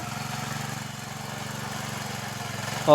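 A tractor-driven puddling machine works slowly through a muddy village field, its engine a steady low throbbing chug at moderate distance, with a brief louder burst at the very end.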